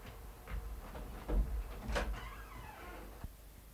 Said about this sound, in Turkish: Gülsel, açıver şu kapıyı, açıver, açıver